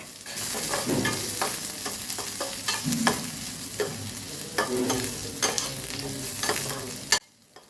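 Chopped onions frying and being stirred in a pan for a Rayalaseema-style puffed rice upma, a steady sizzle with repeated scraping stir strokes, close and fairly loud, cutting off abruptly near the end.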